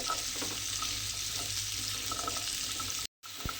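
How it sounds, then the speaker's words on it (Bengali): Bottle gourd is stir-fried in oil, giving a constant close sizzle with faint scrapes from the pieces being turned. The sound cuts out briefly near the end. "তেলের মধ্যে দিয়ে লাউটাকে এইভাবে উল্টিয়ে পাল্টিয়ে একটু রান্না করে নিতে হবে"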